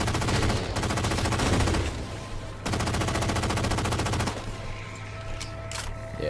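DMR rifle fire and other gunfire in Halo 4 rattle in long, rapid continuous bursts, loud and close, broken by short gaps, with game noise underneath.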